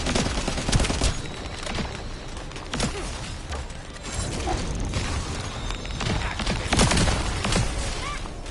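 Suppressing fire rattles in The First Descendant: dense, continuous automatic gunfire with mechanical clatter and booms, loud and sustained throughout, with no talking.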